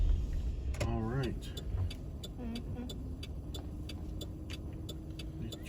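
A truck rolls by on a downtown street near a bridge in Alexandria, Louisiana, its steady road rumble and engine drone filling the scene, with a voice briefly heard at the start.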